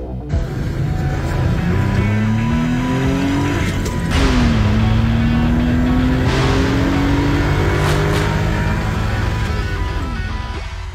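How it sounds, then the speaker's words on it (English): A Suzuki Carry kei car's small engine revs loud and close, climbing through rising gear pulls with a brief shift dip midway, a continuous buzzy drone and no talk. "Those car sounds, courtesy of Patrick and his Suzuki Carry."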